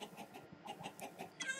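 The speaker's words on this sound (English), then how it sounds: "I'm gonna breed these chickens." Chickens cluck in a short run of soft repeated calls inside the Minecraft modded survival game, with no talk over them.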